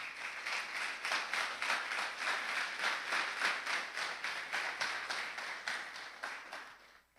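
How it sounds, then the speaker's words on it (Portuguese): A church congregation applauding, many hands clapping in a fairly even rhythm at moderate distance, sustained for several seconds before stopping abruptly with a final knock. "Vamos aplaudir o Senhor pela palavra de Deus"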